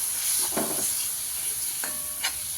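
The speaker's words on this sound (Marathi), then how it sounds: "बघा कसा मसाला आपला भाजायला लागलेला आहे" A spice masala with coconut is fried and stirred in a pan for an egg curry, with a steady hiss of sizzling and a couple of short bursts of stirring and scraping, close by.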